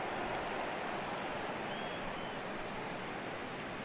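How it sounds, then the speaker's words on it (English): Dense, steady hiss of heavy rainfall, constant and unbroken, with no voices over it. "It's raining heavily outside."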